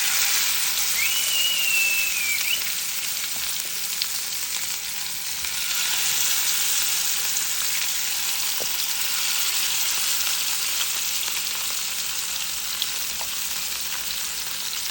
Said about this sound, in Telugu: సో దీన్ని జస్ట్ మనం ఫ్రై చేసుకుందాం